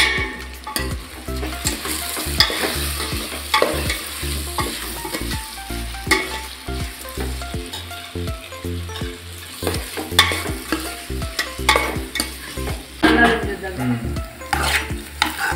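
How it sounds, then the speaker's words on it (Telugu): Potato curry sizzles in a frying pan while a spoon stirs and scrapes it in close, repeated strokes over constant loud frying. "బంగాళదుంప కూర చూడవా కొద్దిగా ఇప్పుడు మిక్స్ చేయాలి."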